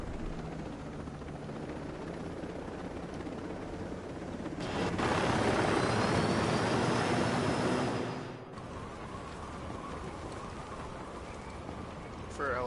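Helicopter flying overhead with a constant rotor drone that swells louder in the middle and fades back, under a noisy wash.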